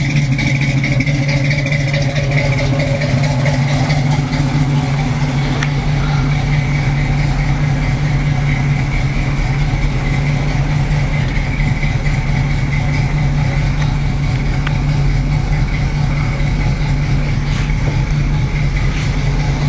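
A 1978 Camaro V8 idles steadily at close range for about twenty seconds, with a low, even engine rumble and a light rattle running throughout. It has reached operating temperature, and a little smoke comes from the valve cover filter.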